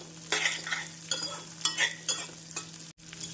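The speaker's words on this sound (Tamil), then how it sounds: "வெங்காயம் 1 நிமிடம் நன்றாக வதங்கவும் பூண்டை சேர்த்து விடலாம்." Onion and garlic sautéing in a pan for a tamarind curry, with loud bursts of scraping and sizzling as the mix is stirred several times, close by against a low steady hum, with no talk.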